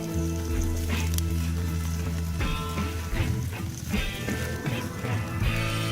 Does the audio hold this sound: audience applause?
no